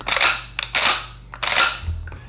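Mossberg 500 pump-action shotgun being racked, with three loud, close metallic clack-and-slide strokes, each followed by a bright ringing tail, and a shell flying out of the action.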